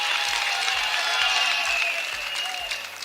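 An audience at a women's charter event in Kenya applauding, a sustained burst of clapping from a crowd that carries on steadily and tapers slightly toward the end.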